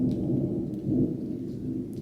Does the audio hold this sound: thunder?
yes